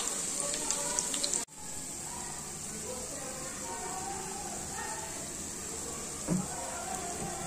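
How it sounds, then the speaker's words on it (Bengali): Coriander-onion chop fritters deep-frying in hot oil give a steady, even sizzle throughout, with a brief clatter at the start and a soft clink near the end. "এবার জাস্ট একটা সাইড ফ্রাই হলেই আমি অন্য সাইডটা দিয়ে দেবো ডিপ ফ্রাই করতে লাগবে"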